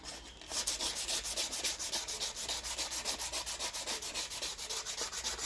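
Land Rover Defender axle part being hand-sanded with 320 grit emery paper: a close, steady back-and-forth scratching in a quick even rhythm, about five strokes per second, continuing without talk.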